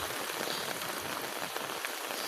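Heavy rain driven by wind pours down in Bhanga, Faridpur, making a dense, unbroken roar of drops hitting surfaces close by that never lets up.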